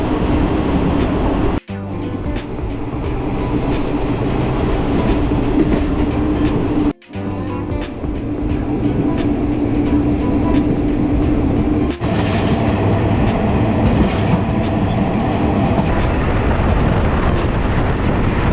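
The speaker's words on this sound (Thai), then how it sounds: "การนั่งรถไฟครั้งแรก" A train rolls steadily along the rails between Bangkok and Ayutthaya, Thailand, with a loud, continuous rumble and rattle, broken by a couple of brief dips and clunks.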